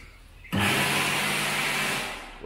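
A loud, steady electric hand dryer in a campsite washroom kicks in abruptly after a brief quiet moment and roars continuously, tapering slightly near the end.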